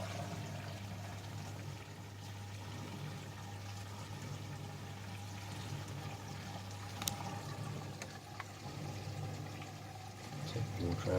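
An AEG Lavalogic 1600 washing machine drains water in service mode, a steady low pump hum with a continuous watery rush running throughout, fairly quiet and unbroken, with a few faint clicks near the end.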